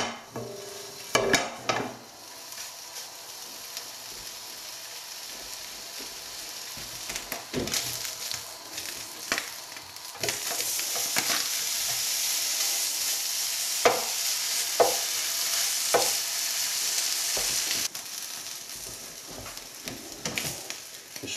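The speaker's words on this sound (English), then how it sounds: "Once again, the Spam goes into a dry pan" Spam frying in a dry pan, a light sizzle that builds and grows steadier over time, punctuated by utensil clinks, scrapes and pan knocks, louder clusters of handling early and midway.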